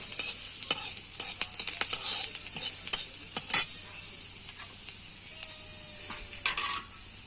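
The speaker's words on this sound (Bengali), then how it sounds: "পেঁয়াজ দিলাম তেলের উপরে। লাল লাল করে ভেজে নেব" Onions frying in hot oil in a home kitchen, a steady soft sizzle broken by scraping stirs and clinks of a spoon against the pan at irregular intervals, with no voices.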